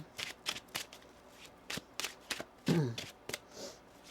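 Crisp riffling bursts of tarot cards being shuffled, several quick flurries with short pauses between, close up, with a brief low hum partway through.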